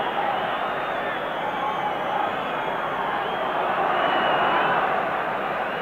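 A 50,000-strong football crowd at a 1990 World Cup qualifier between the Republic of Ireland and Spain roars in a constant, dense wash of cheering and chanting that holds loud throughout, with commentary running over it.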